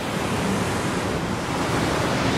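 Waterfall in Yosemite roaring as a steady, dense broadband rush, loud and unbroken, with wind buffeting the microphone and no voices.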